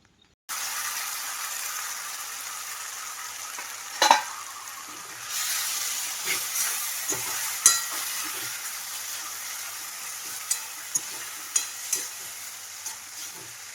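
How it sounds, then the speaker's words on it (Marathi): Cooked leafy vegetable tipped into a hot, crisply fried tempering, giving a steady close sizzle with scraping stirs and a few sharp spoon knocks throughout; no talking. "आता ही शिजवलेली भाजी ह्या फोडणीमध्ये टाकून घेते"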